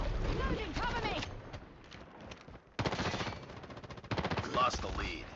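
Jack 12 automatic shotgun fired in a 4v4 tournament match of a tactical video game, sharp rapid blasts in bursts with pauses between them, and a voice talking over the gunfire.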